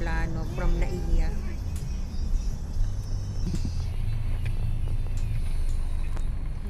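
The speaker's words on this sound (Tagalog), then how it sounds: "Sobra po ang traffic dito sa area na ito." Heavy road traffic on a Manila elevated skyway near the Magallanes exit, a steady broadband rumble of car and truck engines and tire roar with passing vehicles, close and continuous, with a voice talking over it at the start.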